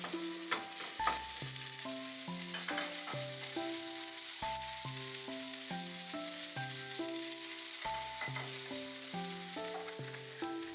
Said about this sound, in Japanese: フライパンでひき肉を炒める。